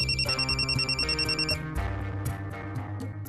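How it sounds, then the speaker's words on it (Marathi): A phone rings during a Marathi TV serial scene with a warbling electronic ringtone that repeats for about a second and a half over background music, then stops. "बाबांचाच फोन आहे."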